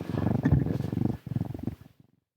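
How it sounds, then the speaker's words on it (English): A cat purrs close up in continuous rhythmic rumbling pulses, loud and steady for about two seconds before fading out, with no talking. "See if you can get her to purr into the microphone."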